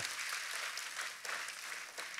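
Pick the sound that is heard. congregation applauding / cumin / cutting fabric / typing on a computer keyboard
congregation applauding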